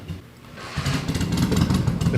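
A 1966 BMW R50/2 motorcycle with sidecar runs its engine, a low, rhythmic idle that swells into a stronger, throbbing chug, close and fairly loud with no talking.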